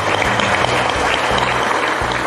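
Audience applause at a public youth-committee ceremony in Villaflores, a steady, dense clapping that fills the whole stretch at close, even loudness with no voices over it.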